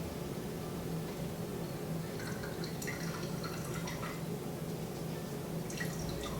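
Coffee dripping through a Chemex paper filter: soft, intermittent drips and trickles of liquid over a faint steady hiss, quiet and close, with no speech.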